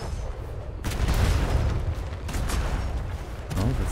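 Cannon fire from a ship during a naval battle in the game Atlas, heard as a dense run of heavy booms and rumbling blasts that carry on through the whole stretch, loud and close with no talking.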